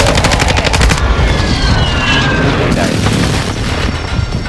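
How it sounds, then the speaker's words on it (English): Rapid automatic gunfire rattles through a Call of Duty Warzone match on the Vondel map, dense bursts and booms filling the mix with constant battle noise and game radio chatter underneath. "Shooting on the left."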